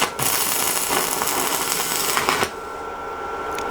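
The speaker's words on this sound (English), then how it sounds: "Welding round 2." Stick welding on steel window bars, a steady crackling hiss running loud and continuous for about two and a half seconds, then cutting off abruptly and leaving a quieter background.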